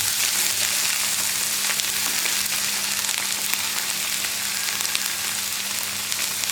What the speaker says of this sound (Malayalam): ഇനി ഇതൊന്ന് വഴറ്റിയെടുക്കുക.